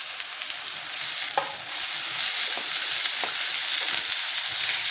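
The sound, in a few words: onion frying in hot oil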